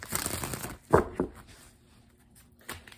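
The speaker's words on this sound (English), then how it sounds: "I'm going to do three major shuffles for the Virgos." A tarot card deck is shuffled during a reading, giving soft papery riffles and crinkling bursts, one sharper snap near the start and a faint flutter at the end, quiet and close with no talk.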